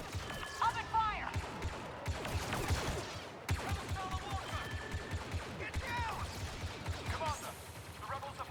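Blaster gunfire in a Star Wars Battlefront 2 campaign battle, with rapid overlapping volleys crackling nonstop under shouted voices and a thick battle din.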